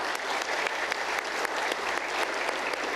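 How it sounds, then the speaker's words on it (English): Applause fills an event hall at a Florida energy policy forum, a dense, steady clatter of many hands clapping for three seconds, loud and continuous with no voices on top. "let's give them a round of applause as well."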